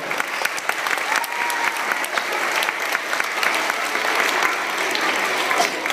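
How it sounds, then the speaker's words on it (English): An audience applauds the accompanist, a pianist, with dense, sustained clapping from a crowd, even and lively throughout with no speech over it. "Let's give her a round of applause."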